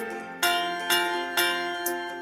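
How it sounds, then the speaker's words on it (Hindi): A school bell rings four times at an even pace, each clear metallic strike fading before the next, close and moderately loud. "सुनो घंटी बजी स्कूल की"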